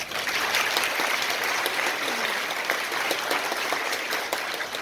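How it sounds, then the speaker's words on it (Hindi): An audience at a school annual function in Ajmer applauds the school staff, a steady, somewhat distant wash of clapping that holds evenly throughout. "उनके लिए तालियां बजाएं"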